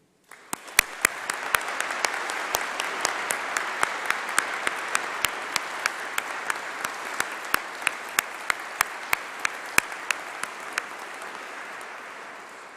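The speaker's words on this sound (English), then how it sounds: "thank everyone at the university who has supported you during your time here, some of whom have been able to join us today and are sitting behind me, with a large round of applause" A large audience applauds in a university great hall at a winter graduation ceremony, steady dense clapping swelling in quickly and holding for over ten seconds, with sharp close individual claps standing out from the even wash.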